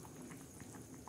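Vegetable curry with besan flour vadis boiling in a pot, a steady soft bubbling and popping, faint and close.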